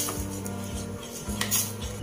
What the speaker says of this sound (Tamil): சேர்த்து நல்லா கிளறி விடணும்.